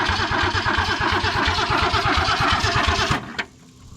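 A 1966 Ford Mustang Sprint 200 engine cranking with a steady rhythmic churn and uneven popping, loud and close, then cutting off abruptly near the end, leaving a brief clack and quiet.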